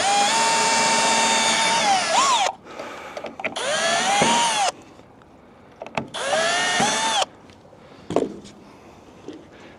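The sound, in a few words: drilling pilot holes with power drill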